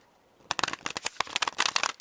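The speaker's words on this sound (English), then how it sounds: "I'll show you exactly how I shuffle." Rapid, crisp riffling of a large oracle card deck being shuffled, a dense flurry of papery snaps lasting about a second and a half.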